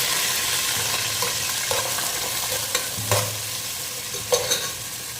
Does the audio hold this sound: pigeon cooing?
no